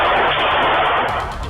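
Loud, dense gunfire, with pistols fired indiscriminately by three or four attackers at a club at night, ringing out in a continuous rapid volley that fills the short stretch without any pause.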